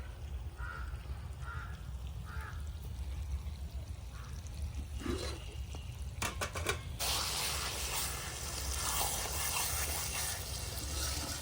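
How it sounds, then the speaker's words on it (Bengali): Water poured from a vessel over washed rice to soak it, a quiet trickle that swells into a steadier splashing pour in a kitchen. "এইবার জল দিয়ে চালটাকে ডুবে রেখে দেবো"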